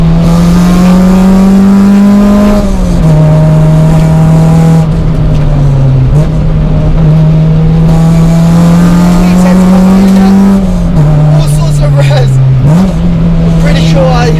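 Honda Integra Type R DC2 with a loud modified exhaust, engine held at high revs in a steady, close, droning roar whose pitch dips and climbs a few times as the throttle shifts.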